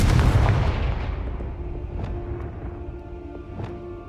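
The Confringo blasting spell in Hogwarts Legacy, a heavy booming blast that decays into a rumbling tail with a couple of faint distant pops after it.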